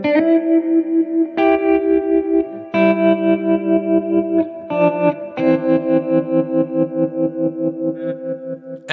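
Guitar chords run through an EHX Attack Decay pedal in continuous envelope mode, each chord swelling and fading in rapid repeating pulses for a steady tremolo, several chord changes, loud and alone.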